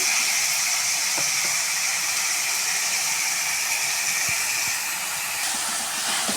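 Onions and tomatoes sauté in a pan for a dalcha curry, giving a steady broad hiss with faint scattered ticks of stirring throughout.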